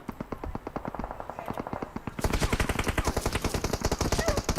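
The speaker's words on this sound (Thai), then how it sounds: "ยิงนี้กระสุนหมดก่อน" Rapid automatic gunfire in the mobile battle royale game PUBG Mobile, a steady burst of shots that grows louder and denser partway through, continuous with no speech.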